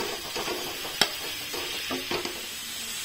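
Cabbage lightly stir-frying in a pan for momo filling, giving a soft, steady sizzle with a few sharp scrapes and clicks from stirring. The sound is fairly quiet and close, with no talking.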